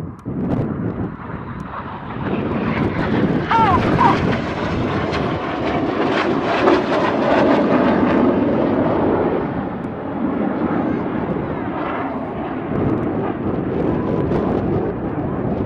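Red Arrows BAE Hawk jets fly a formation display at an air show, their jet roar building to a broad rumble that holds, faint then loud and far-off, as a crowd murmurs below it.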